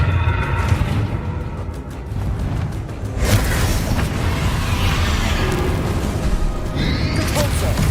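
A Confringo fire spell goes off in the video game Hogwarts Legacy. A loud, sustained blast swells suddenly and roars over a dense bed of game noise and rumbling.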